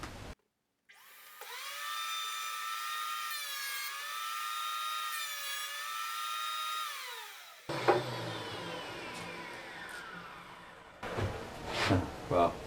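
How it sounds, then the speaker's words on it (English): A Makita 2012NB planer thicknesser with new blades and dust extraction running whines loudly at a high, wavering pitch, then breaks into a rough roaring rasp as a piece of wood passes through, ending in louder uneven bursts. "I'm just going to put a piece of wood through it, so I'll have to turn my dust extraction on as well"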